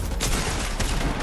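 A rapid burst of video game gunfire, loud, close and continuous, crackling shots packed together for just over a second with no talking over it.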